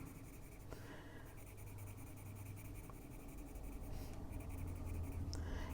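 Colored pencil in a dark cherry red shading across paper while a mushroom is colored, a steady soft scratchy rasp of continuous strokes, close up and quiet, with no one talking.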